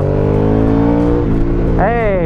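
An Aprilia 1200 Caponord motorcycle with its stock exhaust rumbles loudly and steadily, with a rising whine near the end, while a rider talks over the engine throughout.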